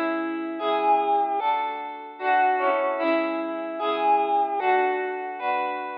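Electric guitar heavily processed with flanger, chorus, compression and distortion, playing a sustained chord progression with swirling, echoing tones, each chord ringing out in turn with no voices.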